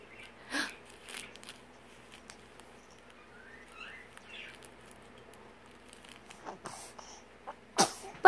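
A single quick sneeze, close and short, followed by scattered small knocks and rustles in a quiet indoor room during play, with no speech.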